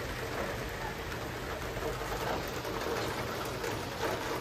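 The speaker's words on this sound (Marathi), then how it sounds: "झुंझुन पाऊस चालू आहे" Heavy rain pouring down outdoors, a dense, even hiss of falling water that holds steady without a break.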